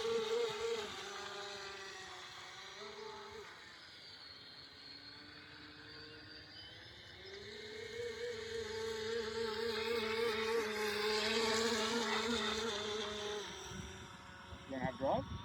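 A Joysway E1 Racebird RC boat converted to a 3s brushless motor runs on the water with a continuous high, whining buzz that rises and falls with the throttle, heard from nearby with voices talking underneath.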